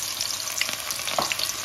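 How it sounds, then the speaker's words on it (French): Onions dropped into hot oil for a fish and okra sauce, giving a steady close sizzle with a few brief crackling pops, with no voices. "Là, notre huile est chaude. Je mets les oignons,"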